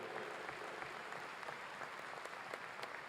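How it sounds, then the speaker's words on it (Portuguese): Sustained applause from the audience at the 23rd Brazilian National Lawyers' Conference, a quiet, even wash of many hands clapping, heard from a distance and not interrupted by any voices. "a salva de palmas da advocacia brasileira e do Brasil pelo trabalho"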